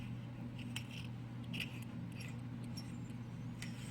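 Faint, close metallic scratching and tiny clicks of a new Augvape Merlin RDTA vape atomizer's threads being screwed together, over a low steady hum.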